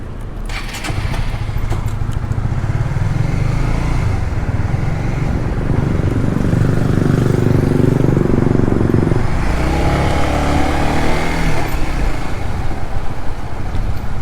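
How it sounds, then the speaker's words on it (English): A 2B-class motorcycle engine idles and revs continuously in a car park, a loud, close rumble that swells and eases with the throttle and carries no speech. "So yeah, I stalled the bike, but eventually I got it moving."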